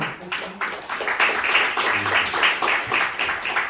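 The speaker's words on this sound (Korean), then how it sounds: "우리 박수로 환영해 주시면 감사하겠습니다." A church congregation claps in welcome during a Sunday service, a moderate burst of many hands with a few faint voices underneath.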